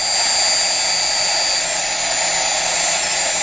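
Motors of an Arduino-controlled quadrotor spin steadily during a yaw to the left, a loud, constant high-pitched whine and hum, recorded up close with no talking.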